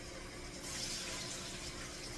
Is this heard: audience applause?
no